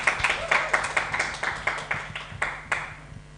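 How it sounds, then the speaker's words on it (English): A small webinar audience claps for the speakers, panelists and moderator: a loose, uneven scatter of individual hand claps close to the microphone, fading out after about three seconds. "Have a round of applause once again"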